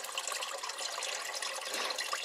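Water from a large 20-gallon tank spilling and splashing onto a floor, a steady, close, hissing pour that runs unbroken throughout with no talk.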